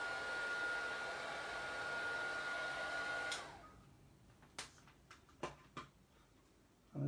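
A handheld dryer blowing steadily on a curling paper craft card, a loud continuous whir that cuts off halfway, followed by a few light taps and handling knocks in quiet.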